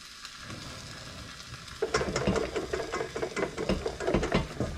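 Hollandaise sauce being whisked by hand in a bowl over heat, a rapid rhythmic metallic rattle of the whisk that starts abruptly after a quiet moment and continues loud and close.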